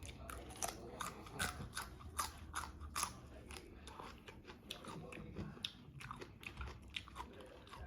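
Crunchy chewing and biting of spicy mixed seafood papaya salad with fresh shrimp, eaten with raw beef, in repeated close, rapid crunches with no talk.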